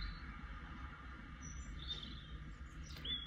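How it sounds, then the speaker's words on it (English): Faint birdsong picked up outdoors by a Reolink Duo 2 camera on a narrowboat, a few brief high chirps over a steady low background rumble, distant and quiet. "You can hear the birds."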